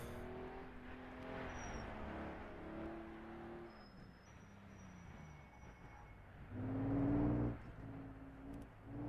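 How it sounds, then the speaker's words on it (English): A race car engine in a racing video game endurance event idles and runs at low revs with a steady droning rumble and tonal harmonics, swelling louder briefly near the end. "The car sounds really good on low revs"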